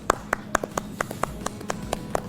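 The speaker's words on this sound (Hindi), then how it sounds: "स्वामी जी, विजेता के लिए जोरदार तालियां" Applause for a winner during a yoga session: a steady series of about a dozen crisp, evenly spaced claps, fairly close, over a low background hum.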